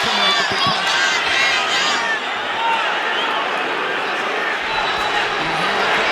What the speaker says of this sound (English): You hear the crowd for Triple G